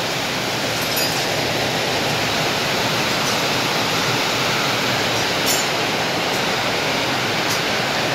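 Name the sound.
heavy rain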